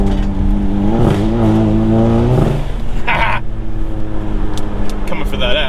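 Turbocharged Volkswagen MK7 pulling hard under acceleration, a loud close engine drone rising and then easing with turbo whooshes and a brief hiss, while people talk over it.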